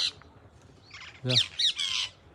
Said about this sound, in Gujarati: મસ્ત હે કે મધુર પક્ષીનો અવાજ આવે છે